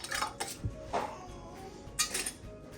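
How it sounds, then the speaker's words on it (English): Metal lids being screwed onto glass canning jars of green beans give a few quiet clinks and scrapes spread over a couple of seconds, close by, with no talking. "So I'm just gonna tighten them fingertip tight and then give them a little extra something towards the end"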